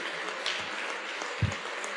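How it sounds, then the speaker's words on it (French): An audience claps steadily at a union congress at the Palais des Congrès, a faint wash of applause from a large hall with one low thump partway through. "Vous pouvez continuer à applaudir les personnels du Palais des Congrès"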